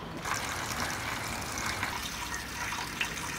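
Water in a cold bath sloshes and gurgles as a body slowly lowers into it, a soft, continuous churning close by with a few faint splashes and no talk.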